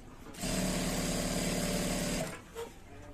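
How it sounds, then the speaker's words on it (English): A sewing machine stitches a seam in danshiki fabric, running in one steady close burst of about two seconds before stopping, followed by a brief faint handling noise. "Okay, so we're sewing this down to the end."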